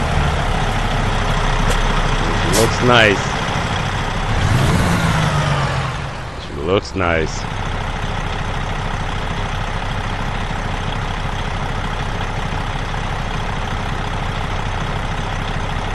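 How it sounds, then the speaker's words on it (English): A low, steady truck engine rumble idles throughout in American Truck Simulator, with someone talking briefly over it early on and a few short rising chirps near the start. "let me fire it up, and I'm glad it's got a different engine sound than the normal trucks"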